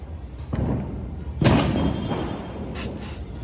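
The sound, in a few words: firecracker bomb exploding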